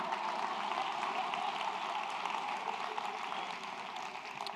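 Sustained audience applause at a Martin Luther King Jr. memorial convocation, a dense even patter of clapping holding steady throughout with no pauses.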